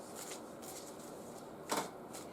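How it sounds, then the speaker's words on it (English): A tarot card deck is shuffled softly and close by, faint papery riffles and brushes with one brief louder flutter of cards near the end. "I'm going to give the deck a shuffle"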